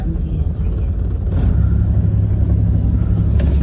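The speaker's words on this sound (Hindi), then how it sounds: "चले जी यहाँ पर मैं गाड़ी लगाता हूँ" A car engine hums as it rolls in to park, a steady low rumble close by with a mild rise in revs, while someone talks over it.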